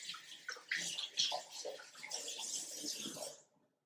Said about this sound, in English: Let me just give my hands a wash again.